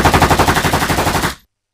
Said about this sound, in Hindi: लिन नायन को देखते हैं जो गेम के अंदर गोलियां चला रहा होता है